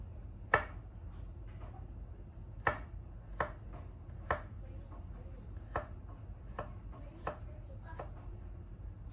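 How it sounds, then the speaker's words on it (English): A knife slices thin pieces of garlic on a board, giving about a dozen sharp, close taps at an uneven, unhurried pace over a low steady hum, with no one talking. "So I just want to be cutting it up very thinly"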